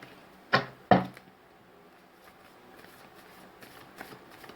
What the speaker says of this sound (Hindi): मैं यहाँ से टोटल 8 कार्ड्स निकालूंगी आपके एनर्जीज में